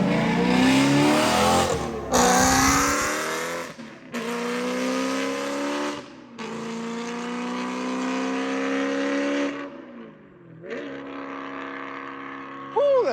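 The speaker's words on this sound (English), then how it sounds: "This thing has a straight pipe, custom titanium exhaust on it." BMW E92 M3 with a sequential transmission and a straight-pipe custom titanium exhaust, revving in several loud, raspy bursts that rise and fall, with brief gaps between pulls.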